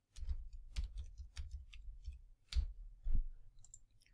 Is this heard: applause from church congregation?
no